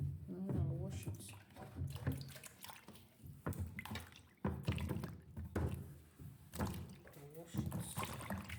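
Grated cassava being washed under running water, with continuous splashing and sloshing of moderate loudness and a person talking over it at times.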